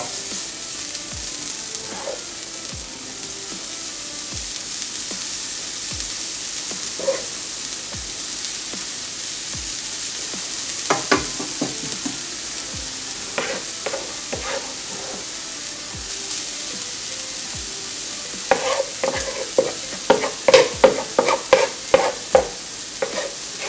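Steady sizzling of coconut in a hot pan with intermittent scraping and stirring strokes, growing busier and louder toward the end.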